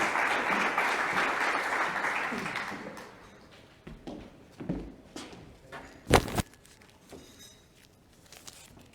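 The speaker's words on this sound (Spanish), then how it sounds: "Un aplauso," Audience applause at a daytime business conference in Málaga, a broad burst of many clapping hands that fades out after about three seconds, leaving scattered shuffles and a sharp knock in a quiet room.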